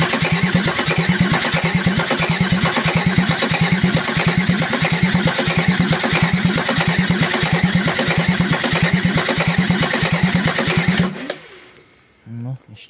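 A VW LT 31D van with a 2.4-litre six-cylinder diesel cranks loudly in a fast, even rhythm for about eleven seconds, then the cranking stops abruptly, followed by a brief low rumble and quiet.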